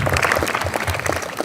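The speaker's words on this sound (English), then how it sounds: "Just give applause for him, please." Audience at a training demonstration claps briefly, a short burst of dense applause from a small group nearby.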